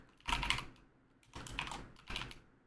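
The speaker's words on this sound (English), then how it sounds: "I just typed in Zoa" Quiet typing on a computer keyboard in three short bursts of rapid key clicks separated by pauses, close and fairly faint.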